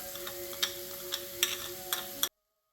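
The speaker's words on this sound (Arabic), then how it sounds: "غادي نحركو جيدا هاد الطاجين." Chicken liver tagine with cumin, paprika, salt, turmeric, ginger, thyme, coriander and olive oil being stirred, giving a steady close sizzle broken by a few sharp clinks, before the sound cuts to silence.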